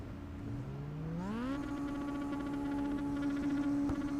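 Star Mazda race cars accelerating off the line at the race start at Monza in iRacing, engine pitch climbing in a smooth rising whine, then holding a steady high drone, loud and close with no talk.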